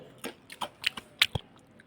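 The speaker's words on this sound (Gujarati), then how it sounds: "મેં ખાધું એટલે અવાજ આવ્યો" Crunchy puffed rice snack chewed close up, a handful of sharp crisp crunches spaced irregularly over about two seconds, quiet background and no talk.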